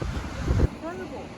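Ocean water churning in a rocky pool below coastal cliffs near Crescent City, California: a soft, low wash of surf mixed with wind rumble, brief and fairly faint.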